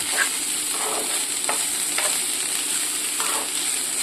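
Onion flower stalks fry in a pan while being stirred: a steady sizzle runs throughout, broken by several short scraping strokes of the spoon against the pan, close and clear with no talking.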